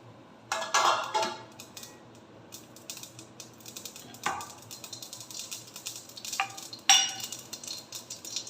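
Mustard seeds splutter in hot sesame oil, giving a few scattered sharp pops and crackles with quiet stretches between them. There is no talking.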